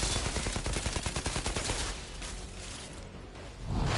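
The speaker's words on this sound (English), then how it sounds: "And now they're already shooting at me!" Enemy gunfire in the Outriders video game, given as dense rapid bursts of shots for about two seconds, then easing off into quieter scattered fire before another loud swell near the end.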